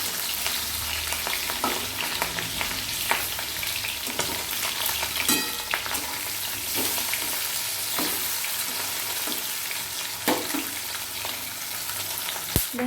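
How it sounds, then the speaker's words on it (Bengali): Rohu fish pieces fry in hot oil in a kadai, a steady loud sizzle running throughout with scattered sharp pops and spatters, no voices. "তারপর মাছগুলো আমি এক এক করে তেলের মধ্যে দিয়ে দিচ্ছি"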